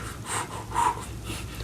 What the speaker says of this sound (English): I'm breathing in and out through my mouth